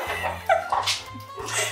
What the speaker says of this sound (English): besides the dog squeaking